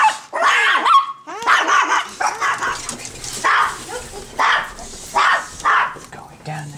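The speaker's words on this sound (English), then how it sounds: "My dogs are gonna bark." Several pet dogs bark and yip excitedly in repeated bursts at close range inside a home, with people talking over and between the barks.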